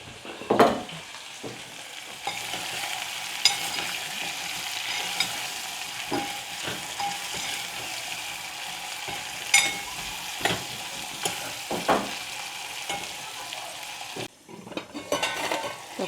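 Food sizzles in a hot pan with salt while a spoon stirs and scrapes it, street-style paper dosa cooking, a continuous close frying hiss with scattered clinks and scrapes and no talking.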